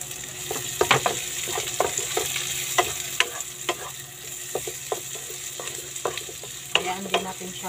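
Onions browning in a hot pan for shrimp carbonara, a steady sizzle broken by frequent sharp scrapes and clicks of a spatula stirring, close and continuous with no talking.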